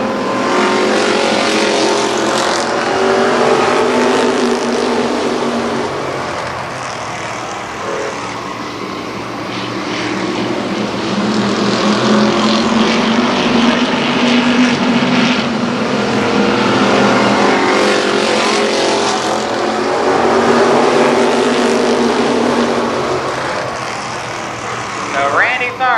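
Midget race cars at Columbus Motor Speedway roar around the oval in a pack, a loud continuous engine drone that swells and fades as cars pass, with an announcer's voice calling the race over the noise.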